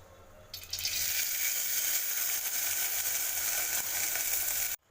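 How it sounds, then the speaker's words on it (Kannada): Sprouted beans dropped into hot oil in a cooking pot, a sudden onset of bright, steady sizzling and crackling that holds evenly for several seconds and cuts off abruptly at the end, close and alone. "ಮೊಳಕೆ ಕಾಳು ಫಸ್ಟ್ ಒಂದು ಪಾತ್ರೆ ಇಟ್ಟು ಎಣ್ಣೆ ಹಾಕಿ ನಂತರ ಮೊಳಕೆ ಕಾಳು"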